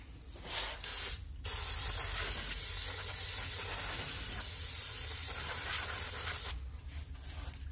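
Carb cleaner sprays in a steady, loud aerosol hiss into a 2004 Ram wheel hub, with short bursts at the start and then one long continuous blast, close to the microphone.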